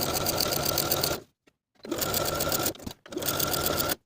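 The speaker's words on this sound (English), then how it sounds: "Now I'm going to edge stitch close to the raw inner edge all the way around using a stretch stitch." A sewing machine runs a stretch stitch along the raw inner edge of a dress hem, in three steady, loud bursts of rapid needle chatter separated by short silent pauses.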